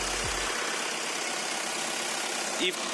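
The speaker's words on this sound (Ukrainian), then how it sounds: "Двигун працює дуже добре, м'ягенько, рівненько." A 2015 Opel Astra J 1.6 CDTI diesel engine idles with a steady low rumble, close and even throughout, with a brief faint squeak near the end.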